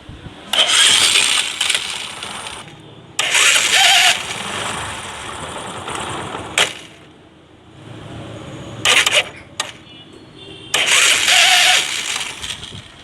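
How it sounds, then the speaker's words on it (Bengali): A motorcycle self-starter, faulty and making a bad grinding noise, cranks in four loud, harsh grinding bursts separated by short pauses, with a low engine noise lingering between attempts. "সেলফ মারার সময় সেলফ থেকে একটা বাজে শব্দ আসছে, একটা ঘা ঘা করে শব্দ করতেছে"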